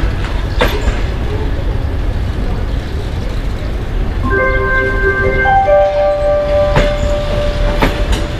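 EP1M electric locomotive hauling a Moscow–Vladikavkaz passenger train arrives at a station, a loud continuous rumble with rail clicks, and a brief sustained horn tone midway through.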